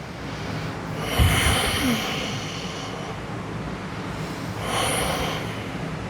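Slow, audible breaths in and out during a seated spine self-adjustment exercise, two long airy exhalations with a soft sniff between them, close and steady against a quiet room.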